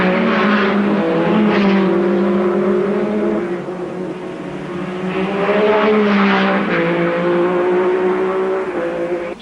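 Late-1950s racing cars, a Ferrari leading a Cooper, roar along the circuit in a loud continuous engine drone whose pitch rises and falls as they pass, with no talk over it.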